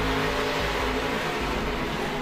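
NASCAR pickup trucks racing in a championship event, a dense, loud, steady engine roar from several trucks running together during a crash-strewn stretch of the race.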